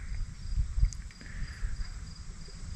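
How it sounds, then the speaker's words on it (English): Crickets and insects chirp faintly from trees at an outdoor rendezvous camp in the Ozarks, a thin steady high buzz over low rustling wind noise. "there's all these animals in the trees and crickets and bugs and stuff making noise"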